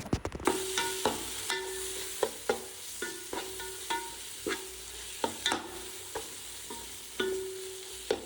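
A spoon stirs beef masala spices in a frying pan, producing repeated scraping clinks against the metal at an irregular, unhurried pace over a soft continuous sizzle, close and fairly quiet.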